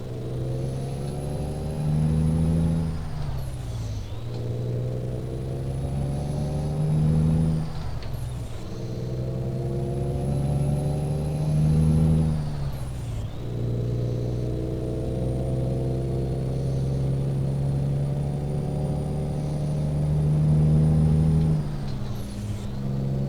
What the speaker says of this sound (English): Still running the Cummins 485 ISX. Very strong motor.